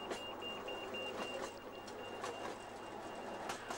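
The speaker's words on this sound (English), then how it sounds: "Maybe they don't like the sound of the train passing them several times a day during the season." A steam train runs on a heritage railway during a steam gala, giving a faint, steady mechanical rumble with soft hissy bursts and a thin whine throughout.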